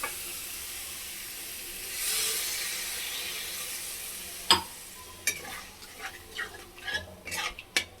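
Water poured into fried masala in a pan for potol malai curry, giving a loud hissing sizzle that swells and fades, followed by sharp clinks and scrapes of stirring.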